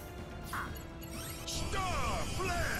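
Shattering of the Heavens special attack from Star Ocean 2, a run of layered mechanical whooshes, sweeping tones and crackling magic effects over a steady game music bed, growing louder toward the end.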